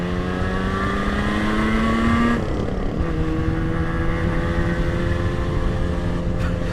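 A restored 1980 Moto Guzzi 250 TS motorcycle engine revving up through a gear, its rising whine dropping sharply at the shift and then pulling again at lower revs, loud and close throughout.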